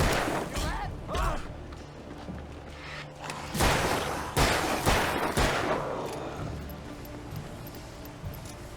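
Gunshots in the game Alan Wake, several loud sharp blasts spaced apart, some in quick pairs, with a voice talking between them.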